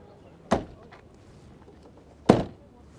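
The lightweight carbon fiber door of a Honda Civic Type R FL5 is slammed shut twice, each a sharp, close thunk separated by quiet.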